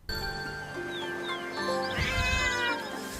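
A cat meowing in the video game Where Winds Meet, one drawn-out, clear meow with rising and falling tone, heard close over a steady game background soundscape.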